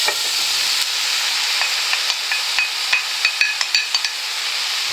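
Garlic and a large heap of mushrooms sizzle in a pan for a beef stroganoff, with a steady bright hiss and a run of sharp utensil taps and scrapes as the mixture is stirred, close and loud.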